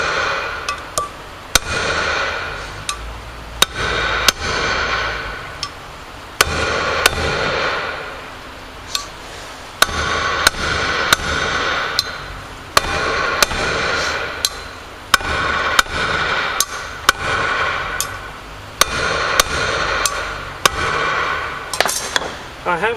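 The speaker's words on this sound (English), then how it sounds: "put it over and then hit the copper strips, it'll save it from being damaged" Hammer striking copper strips to drive on the front brake disc of a 1992 Yamaha XJ600S Diversion motorcycle, sharp metallic clanks repeated in uneven bursts over a steady background whir, close and loud.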